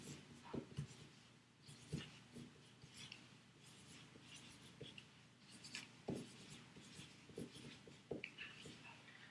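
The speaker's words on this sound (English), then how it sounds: "I'm going to stop and write David's action down on this chart" Marker strokes squeak and scrape across chart paper in a classroom, coming in short bursts with pauses between lines, close and fairly quiet, with no talking.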